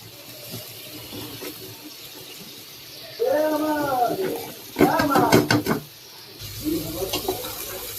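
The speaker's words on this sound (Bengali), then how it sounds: "তো মূলা দেওয়ার পর একটু নেড়ে চেড়ে নিব" Radish is added to lentils in a pan and stirred, giving scraping, sloshing bursts with a faint sizzle under a steady low background, with voices audible at times.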